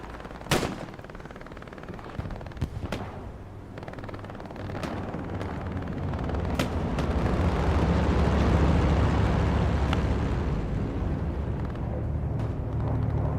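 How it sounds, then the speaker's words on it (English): Explosions from an allied bombing run in a multiplayer war video game: several sharp blasts early on, then a dense, sustained rumble of detonations and gunfire that builds and holds loud with no talking. "Allies dropping supplies on the point now. British bombing run coming in."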